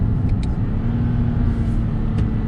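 A 2020 Toyota Yaris drives along with a steady, loud engine and road rumble, a continuous low drone running unbroken the whole time, with no talking.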